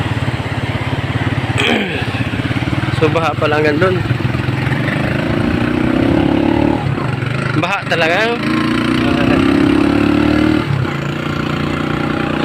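Motorcycle engines idle and rumble steadily while being washed in a flooded area, a continuous mid-pitched drone with people talking loudly over it throughout.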